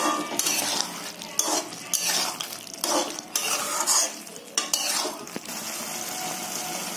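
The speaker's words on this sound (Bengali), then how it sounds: "গরম মশলা দিয়ে আমি 30 সেকেন্ড মতন নাড়াচাড়া করলাম।" Garam masala of ground cinnamon, cloves and cardamom is stirred into mushroom curry in a pan, with repeated loud metal spoon scrapes and clanks over a soft sizzle, close up and rhythmic, then quieter toward the end.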